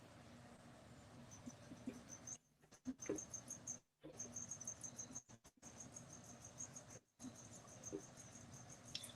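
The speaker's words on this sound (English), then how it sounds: "Crickets are making me sleepy." Crickets chirp in a steady high-pitched trill with faint background noise, broken by a few short dropouts.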